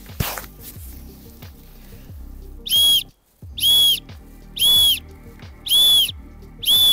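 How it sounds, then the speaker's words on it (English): A small whistle built into a Petzl head torch gives four shrill, piercing blasts in a regular, evenly spaced rhythm, each about half a second long, close and loud over faint background rustling. "The universal distress signal is 6 blasts on the whistle, and that's repeated every minute until you get help to come."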